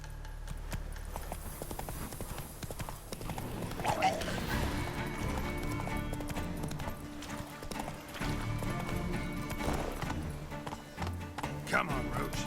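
Geralt's horse Roach in The Witcher 3 gallops with loud, continuous hoofbeats and a brief whinny, under a man's speech and game music.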